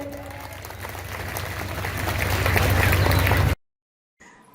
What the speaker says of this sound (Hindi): एक जोर से ताली बजाओ